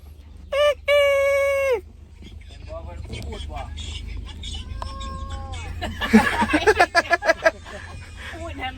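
A voice imitates a rooster's crow in a drawn-out, wavering call, followed by a rapid series of clucking bursts amid background noise and chatter.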